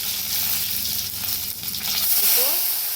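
Curry leaves crackle and sizzle in hot oil with mustard seeds, tempering for a coconut chutney, a steady close frying hiss with sharp pops and a brief stir near the end.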